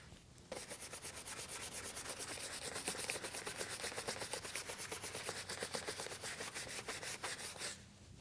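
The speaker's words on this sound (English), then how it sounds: "scrub the pouch. And we're gonna do the outside of the pouch" A brush scrubs the outside of a Harley Davidson leather pouch in quick, even back-and-forth strokes, producing a continuous close rasping rub that lasts several seconds before it stops.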